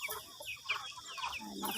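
Chickens cluck in short, irregular bursts close by, with a faint voice murmuring underneath.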